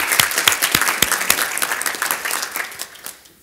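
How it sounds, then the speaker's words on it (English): An audience applauds a Green Lake presentation at a civic forum, individual claps standing out sharply at first before the clapping thins and fades out by the end. "Let's give a round of applause to Green Lake."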